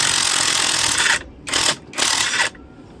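Socket wrench ratcheting on boat engine mount bolts during an engine removal, a long continuous clicking run followed by two shorter bursts, close and loud with no talking.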